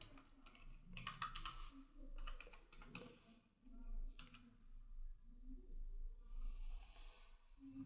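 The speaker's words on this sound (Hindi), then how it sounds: "नाम लिखने के बाद उसका पैन नंबर लिख रहा हूँ मैं यहाँ पे।" Fingers typing a PAN number on a computer keyboard while filling in an income tax return form, giving quick irregular bursts of soft key clicks with short pauses, close by, over a faint low hum.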